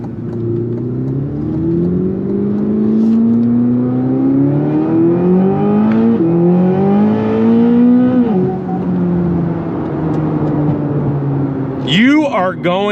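A 2026 Chevrolet Corvette C8 ZR1 engine pulls hard under acceleration, its rising tone climbing through several gear changes in a loud in-cabin drone before a sharp rev at the end.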